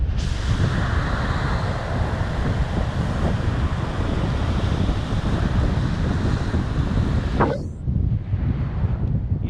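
Strong wind buffets the microphone over steady surf and ocean waves at the sand dunes and beach of Riohacha, La Guajira, a continuous loud roar that drops abruptly near the end to a quieter, gustier wash.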